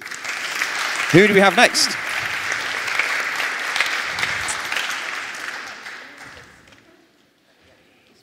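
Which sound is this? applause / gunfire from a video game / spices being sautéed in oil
applause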